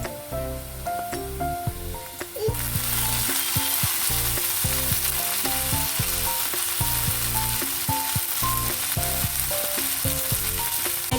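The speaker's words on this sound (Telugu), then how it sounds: "కొద్దిగా బ్రౌన్ కలర్ అయ్యే వరకు ఫ్రై చేస్తున్నాము" Fenugreek leaves frying in a pan for methi chicken. A quieter start jumps into a loud, steady sizzle, with rhythmic spatula scrapes and clanks against the pan, close by and without talk.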